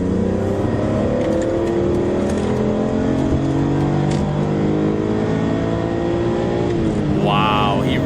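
A car engine revs hard while merging onto the Autobahn, its pitch climbing through long, rising gear pulls, loud and close under a constant road roar, with a whining shift near the end.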